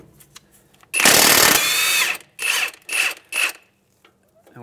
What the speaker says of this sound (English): We're gonna use an impact on the other side.